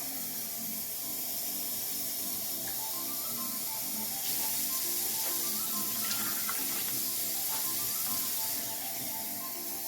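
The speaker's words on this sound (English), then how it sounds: "5 cups of water to this." Water runs steadily from a tap into a pot for a crawfish and shrimp boil, a continuous splashing hiss that grows slightly brighter midway, with faint clinks in the background.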